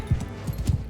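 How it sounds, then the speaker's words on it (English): Horse hooves clip-clop in Mount & Blade II: Bannerlord, with a few quick, soft strikes in an uneven rhythm over a brief, quiet moment. "Horse!"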